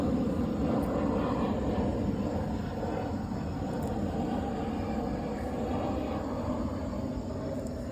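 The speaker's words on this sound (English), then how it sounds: "let me wait for this plane to pass" An airplane passing overhead outdoors gives a steady, broad roaring rumble that holds at an even loudness for the whole stretch, with no voices over it.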